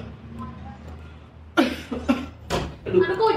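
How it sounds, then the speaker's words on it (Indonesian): A person coughs several times in quick bursts, loud and close, after a stretch of quieter speech-like sound. "Aduh, kok jadi batuk-batuk?"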